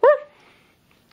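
A puppy gives one short, loud yip-like bark, followed by near silence and a couple of tiny faint ticks.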